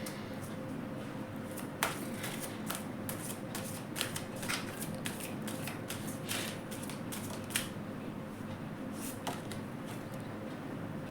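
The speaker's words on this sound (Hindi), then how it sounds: "पहले मैं कार्ड्स निकाल लेती हूँ" Tarot cards are shuffled and drawn by hand in a steady run of soft riffling and flicking, with sharper card snaps standing out every couple of seconds over a quiet background and no talk.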